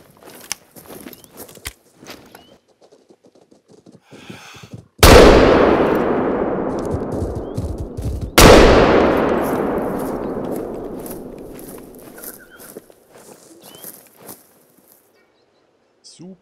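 Two loud rifle shots at buffalo in The Hunter: Call of the Wild, set in Patagonia, each a sharp crack with a long rolling echo decaying over several seconds, spaced about three seconds apart amid quiet outdoor ambience.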